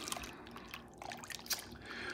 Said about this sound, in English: we're gonna continue to stir that